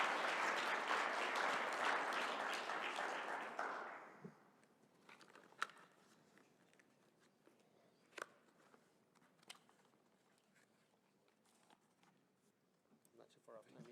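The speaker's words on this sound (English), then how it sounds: "Please join me in giving Dan a round of applause." Audience applause for a speaker rings out strong and dense for about four seconds, then fades into a quiet room with scattered footsteps, knocks and faint shuffling.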